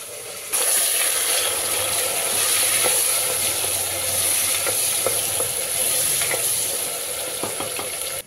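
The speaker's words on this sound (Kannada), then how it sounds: "ಚೆನ್ನಾಗಿ ಫ್ರೈ ಆಗಬೇಕು ಈರುಳ್ಳಿ, ಸ್ವಲ್ಪ ಬ್ರೌನಿಶ್ ಬರೋವರೆಗೂ ಫ್ರೈ ಆಗಬೇಕು" Onions and tomatoes for a vegetable biryani fry in a pan with a close, steady sizzle and hiss, broken by light stirring scrapes and small pops.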